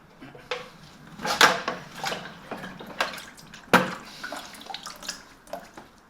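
Coolant poured back into the cooling system of a 1954 Morris Minor, a close liquid trickle and splash in uneven bursts with occasional louder sloshes and small knocks, no talking.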